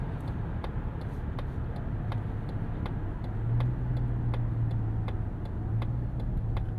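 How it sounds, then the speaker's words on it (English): A 2025 Mazda CX-70 Turbo S with a turbocharged inline-6, downshifting in sport mode, heard from inside the cabin as a steady low engine drone that swells slightly midway, with regular soft ticking throughout. "Slightly more aggressive downshifts there in sport mode."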